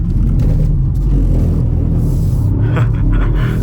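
A rear-wheel-drive car's engine drones steadily while driving, a loud, continuous low rumble with a slight rise in revs near the end and no talk over it.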